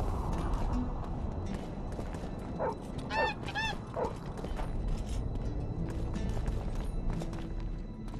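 A door creaks shut in The Witcher 2, a few short, rising wooden creaks bunched in the middle of the clip over steady in-game background ambience.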